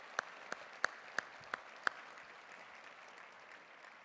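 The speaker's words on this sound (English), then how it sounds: "join me in giving a round of applause to all of our sponsors" A handful of sharp, separate claps at an annual meeting for the event's sponsors, six isolated hits in under two seconds, fairly faint over a quiet hall, then fading to stillness.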